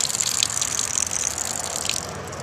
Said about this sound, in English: But there we are with some water running out.